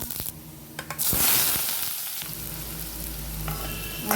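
Mustard seeds crackle and sizzle loudly in hot oil in a pan, with a burst of spitting and a few clinks of a utensil, no talking.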